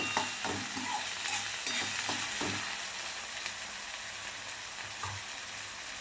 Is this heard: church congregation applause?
no